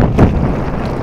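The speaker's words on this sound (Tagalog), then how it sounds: "Malakas ang amihan" A strong northeast monsoon wind blows at the shore of Nasugbu, buffeting the microphone with loud, continuous, low rumbling gusts.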